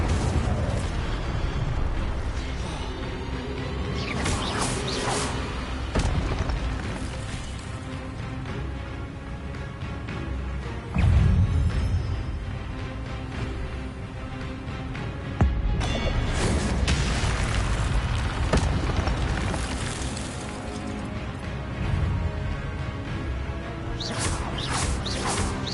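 Incendio fire spells blasting in the Hogwarts Legacy video game, with repeated booming bursts and whooshes layered over a dense, continuous roar of battle sound.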